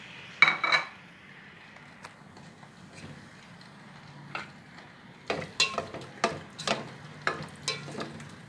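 Metal spoon stirring fish curry with thick coconut milk in a frying pan: scattered scrapes and sharp clinks against the pan over a soft, steady sizzle, close by with no talking.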